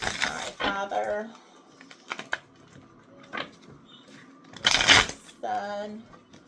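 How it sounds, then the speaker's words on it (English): Tarot cards shuffled by hand in several brisk bursts of papery riffling and tapping, with pauses between, while a person speaks quietly over them. "Let me shuffle these from my last read right quick"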